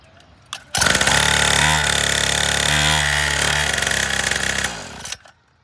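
A kids' 49cc petrol pocket dirt bike engine starts with a click, then runs loud and buzzy near the microphone for about four seconds, briefly rising in pitch twice before cutting off.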